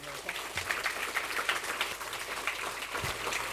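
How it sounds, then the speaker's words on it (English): A lecture hall audience applauds a professor taking the stage for a public lecture, steady dense clapping from a room of people throughout, moderately loud and without talk. "let us welcome Professor Baker on stage with a big round of applause"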